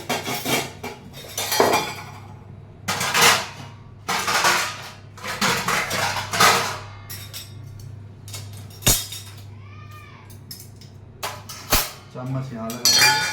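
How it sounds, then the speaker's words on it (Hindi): Steel plates, glasses, spoons and other utensils clink and clatter repeatedly as they are set into a kitchen rack with hooks, sharp metallic hits in bursts with quieter gaps, close by and loud. "चम्मच यहाँ लगा देंगे, चम्मच इस तरह से इसमें फंसा देते हैं"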